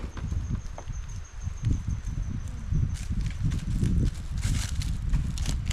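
Steady clip-clop of horse hooves walking at an even pace, close by, with rustling and outdoor background noise and no talking.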